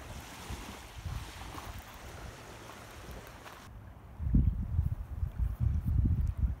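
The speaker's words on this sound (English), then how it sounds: "I'm at the end of the beach right now" Surf breaking on a beach at the far end of a quiet shore, a steady low wash with wind noise on the microphone, swelling into louder, closer rushes of waves in the second half.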